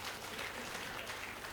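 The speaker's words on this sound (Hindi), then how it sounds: "इधर के लोगों की ताली थोड़ी कम बज रही है" Audience at a live comedy show clapping steadily throughout, a dense, even wash of applause with no speech over it.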